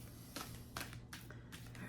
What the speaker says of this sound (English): I'm actually shuffling this deck.